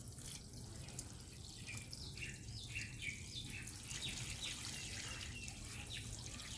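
Water poured over a potted chrysanthemum, soaking the whole plant, runs and trickles steadily and softly at close range, with faint bird calls behind and no talking.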